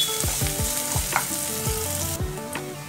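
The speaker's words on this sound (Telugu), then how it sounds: "వేసి ఫ్రై చేసుకోవాలి." Green chilies and salt fry in a pan with a steady sizzle, cut by repeated scraping strokes of a stirring spoon, loud and close with no talking.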